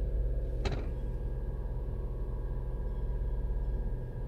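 A Toyota Avalon/Camry engine with a random misfire idles steadily near 1000 RPM, a constant low rumble with one sharp knock or clack early on.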